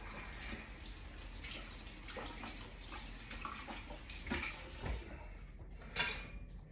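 Tap water runs steadily into a kitchen sink while a knife is rinsed during slow cooker pork tenderloin prep, with a few clinks and knocks of utensils rising near the end; no one talks.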